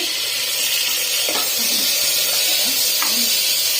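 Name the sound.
stirring curry masala frying in a pan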